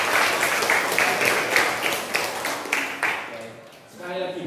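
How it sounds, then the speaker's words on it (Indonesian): A classroom of students applauds a student group, a loud burst of many hands clapping close by that fades out toward the end, where a voice begins talking. "tepuk tangan untuk kelompok Burhanuddin."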